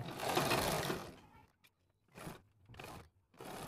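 A sewing machine stitches a fabric seam with a quarter-inch margin while making a palazzo pant, one long whirring run followed by three shorter bursts, close and fairly quiet.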